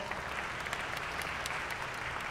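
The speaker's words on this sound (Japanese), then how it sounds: "今一度大きな拍手をお送りください" An audience applauds after a piece by a Japan Ground Self-Defense Force band at a concert, steady even clapping from many hands at a moderate distance, lasting the whole moment with no voices over it.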